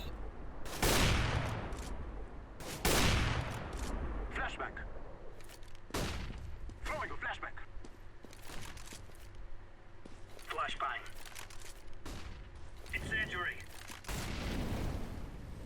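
Gunfire in the video game CS:GO comes as several sharp, loud shots and short bursts scattered through the round, along with fainter clatter, while someone talks over the action.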